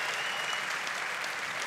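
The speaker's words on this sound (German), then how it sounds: "Ich hätte ganz gerne ein ordentliches Stück Applaus für beide Kämpfer." An audience at a combat sports fight night applauds both fighters after the bout, a continuous, fairly quiet wash of clapping from a crowd heard at a distance.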